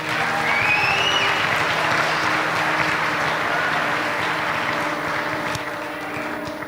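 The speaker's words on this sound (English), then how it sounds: "Let's give a round of applause for Miss Anna Ells and Mr. Michael Mercurio" Sustained applause from a large crowd at a high school formal assembly, steady and loud clapping that continues throughout with no speech over it.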